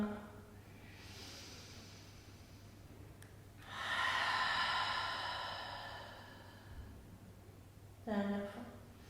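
During a guided breathing exercise, a soft inhale is followed by a long, loud breath pushed out through the mouth that slowly tapers off, before a voice begins speaking near the end.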